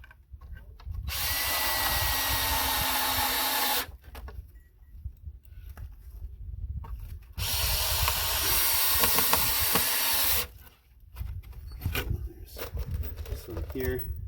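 A power drill drives screws into pallet wood for a chair in two long, loud whirring bursts. Handling noise and shuffling fill the gaps between them.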